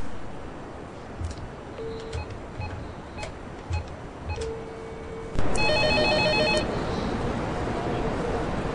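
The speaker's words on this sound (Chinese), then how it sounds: "对不起，接一下电话。" A telephone starts ringing partway through with a loud, repeating electronic trill, cutting in over quiet room background and continuing steadily to the end.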